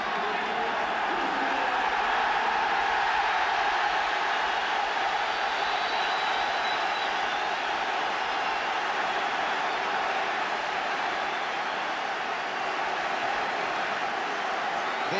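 Capacity crowd of supporters at an Everton v Liverpool FA Cup semi-final roaring and cheering steadily as the players are welcomed onto a rain-soaked pitch, a dense, continuous wash of distant voices with no pauses.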